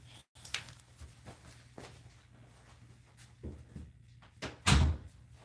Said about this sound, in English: Let me close this door because I have someone coming in